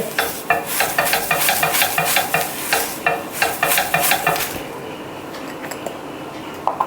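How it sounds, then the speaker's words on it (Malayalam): Masala dosa batter hits a hot oiled griddle stone and is spread out, a close, bright sizzle with rhythmic scraping strokes that stop after a few seconds, leaving a softer hiss. "ഇനി ദോശ മാവ് കോരി ഒഴിച്ച് നമുക്ക് മസാല ദോശ ഉണ്ടാക്കാം"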